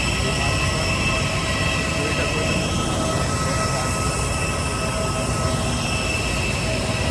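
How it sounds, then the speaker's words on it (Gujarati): A loud, steady engine roar fills the clip, a constant broadband drone with a faint high whine, from inside a passenger plane in flight. "પ્લેનનો અવાજ ખૂબ વધારે હોવાથી મારો અવાજ તમને નહીં સંભળાય"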